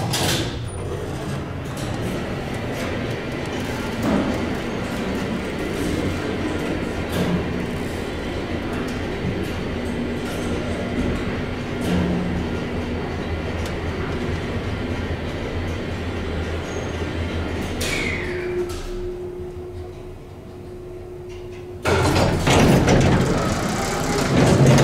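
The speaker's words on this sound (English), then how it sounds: "I love the motor on this elevator." A vintage Otis traction freight elevator's motor hums and drones steadily for about twenty seconds, then cuts to a quieter tone, followed by a loud clattering rumble near the end. No speech.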